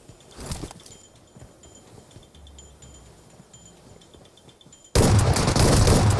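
Gunfire in the mobile battle royale game PUBG Mobile: a sharp burst near the start, then quieter game ambience, ending in a loud sustained roar of dense shooting that fills the last second.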